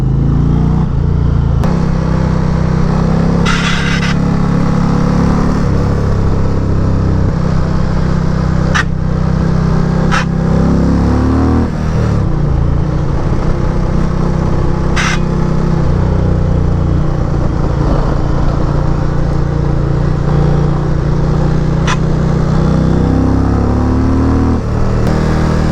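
A 2023 Indian Pursuit touring motorcycle is ridden, its engine giving a loud steady low drone under constant wind roar, with slight changes in pitch as the bike speeds up and slows down and no talk.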